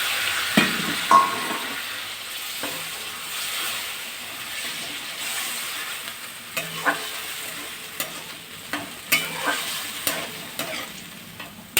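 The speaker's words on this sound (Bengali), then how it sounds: "এবারে দিয়ে দিচ্ছি সর্ষে বাটাটা" Mustard paste hits a pan of small fish and taro stems, setting off a loud sizzle, then spoon strokes scrape and clack at a fairly regular beat over a steady frying hiss.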